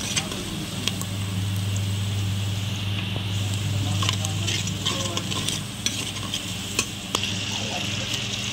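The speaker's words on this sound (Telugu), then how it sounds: "ఉల్లిగడ్డలు వేయండి, పసుపు వేసుకున్నాం, బాగా కలుపుకోవాలి." Onions with turmeric fry and sizzle in a pan while a spoon stirs them, a steady hiss under occasional scraping clicks, close and fairly loud, with no talking.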